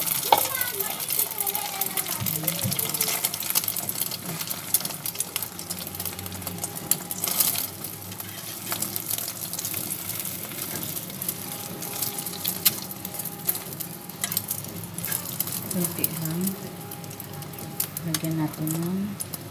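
An egg cooks in a hot pan for a healthy breakfast recipe, with a continuous close sizzle and frying crackle throughout, plus occasional stirring and scraping. A voice and other talk come in and out over it.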